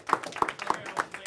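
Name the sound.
audience round of applause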